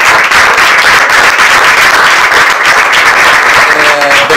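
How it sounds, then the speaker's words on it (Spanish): An audience at a talk on Rosa Luxemburg gives a round of applause for the speaker, a loud, dense, continuous clapping close by that fills the whole stretch without pause. "Pido un aplauso."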